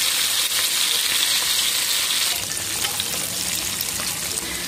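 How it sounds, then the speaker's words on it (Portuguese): Pork charque spits in hot oil with a steady, loud, close hiss that runs throughout, its crackle shifting slightly partway through. "Agora a gente vai levar aqui pra fritar. Óleo tá no ponto."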